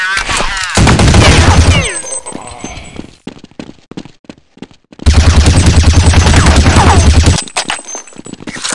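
Automatic rifle fire in Counter-Strike 1.6 on the de_dust map, two long loud bursts of rapid shots with a quieter gap of scattered single shots between them, close and dominant.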